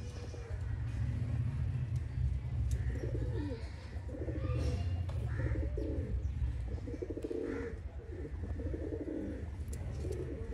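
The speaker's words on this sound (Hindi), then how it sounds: "सियालकोटी अली वाले कबूतर दोस्तों प्योर हालत तुसी देख रहे हो," Sialkoti pigeons coo steadily in overlapping soft, throaty calls, with a constant low hum and faint chirps in the background.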